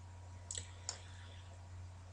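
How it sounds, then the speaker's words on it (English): Two quick, faint computer mouse clicks a fraction of a second apart, a right click at a desk against a low steady hum. "we right click and we can do a preview"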